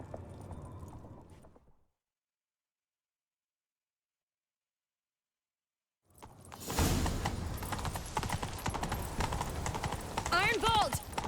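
After a stretch of silence, rhythmic hoofbeats of a galloping horse in The Witcher 3 pound steadily and loud, with voices talking over them.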